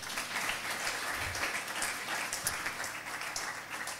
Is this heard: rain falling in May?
no